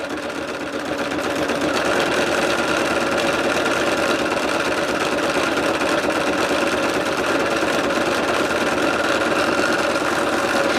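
An embroidery machine stitches a design block for a lumbar pillow, its steady mechanical whirr and rapid needle chatter running loud and continuous throughout, with no talking.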